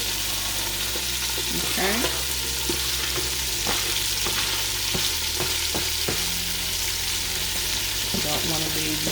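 Onions and garlic frying in a hot pan: a loud, dense sizzle holds steady throughout, with repeated scraping stirs and a brief spoken word.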